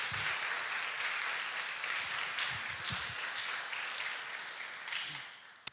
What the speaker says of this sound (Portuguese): Você pode aplaudir Ele por isso?